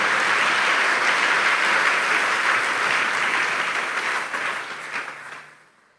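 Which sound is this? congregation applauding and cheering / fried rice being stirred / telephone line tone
congregation applauding and cheering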